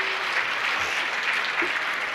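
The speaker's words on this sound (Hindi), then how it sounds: "अभी अच्छी सी बजाओ ताली" Steady applause from an audience at a spiritual discourse, a continuous dense wash of clapping with no clear individual claps standing out, fairly even in loudness throughout.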